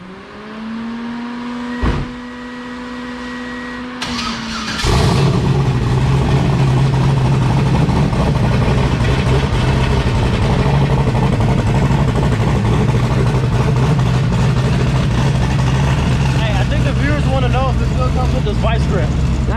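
A turbocharged Chevrolet Camaro street car cranks over briefly, catches with a loud burst at about five seconds, then settles into a rough, steady idle close by, with people talking over it.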